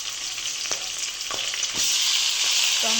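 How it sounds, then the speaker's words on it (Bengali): Dried red chillies, bay leaf and green chillies fry in hot oil with a steady, close sizzle, broken by a few soft stirring knocks, and no voices. "শুকনো লঙ্কা, তেজপাতা, কাঁচা লঙ্কা দিয়ে একটু ভালো করে লাল করে ভেজে নিয়ে"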